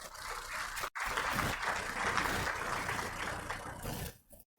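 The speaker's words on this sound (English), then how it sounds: "I think we deserve a round of applause" A panel audience at an investing discussion event claps steadily for about four seconds, with a brief gap near the start before the applause resumes and then stops abruptly.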